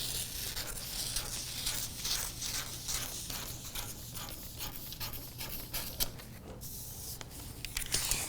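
Scissors snip steadily through a paper skirt pattern, cutting down one arm of a dart in a quick series of close, crisp cuts with paper rustling, and no talking.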